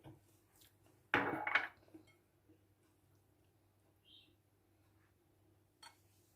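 Wheat salad with pickles being stirred in a dish: a short burst of clattering and scraping, then a fainter knock or two in an otherwise quiet room.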